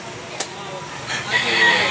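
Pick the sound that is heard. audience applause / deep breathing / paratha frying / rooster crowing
rooster crowing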